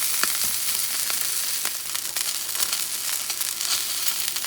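Beef tenderloin searing in a cast-iron pan, a loud, steady, close sizzle with crackling pops throughout, and no talking.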